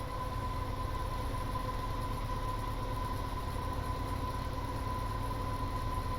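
A steady, continuous diesel locomotive drone on the CP Windsor Sub in Train Sim World, running at an even level with a constant tone and no talk.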